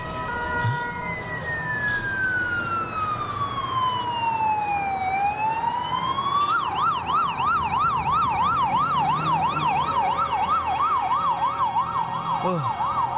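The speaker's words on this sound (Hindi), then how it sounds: "ओह, खुदा का शुक्र है कि एम्बुलेंस आ गई।" An ambulance siren in a dubbed Urdu drama street scene sweeps in one long wail, then switches to a rapid yelp. It sounds loud and continuous over traffic rumble, with no talk.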